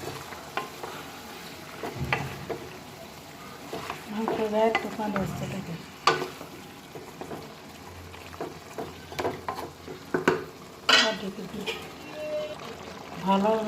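A spatula stirs meat and fried onions sizzling in a pan, with irregular scrapes and clanks over a low crackle, while a voice briefly speaks nearby.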